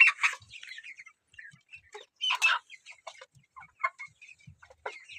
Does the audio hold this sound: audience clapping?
no